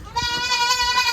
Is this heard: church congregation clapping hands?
no